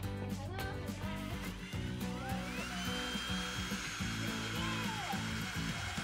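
A DeWalt cordless screwdriver whirs nearby with a continuous high motor whine that rises and dips in speed as it runs.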